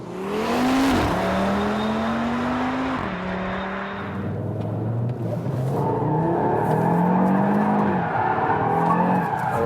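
Audi RS3 driven hard on a race circuit, engine revving loudly through rising gear pulls near the microphone, then tyres squealing and skidding as it corners at speed.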